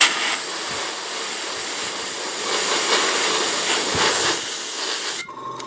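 Black spray paint hissing steadily from a can in light coats over a model stencil, a continuous close, even spray lasting about five seconds before cutting off abruptly.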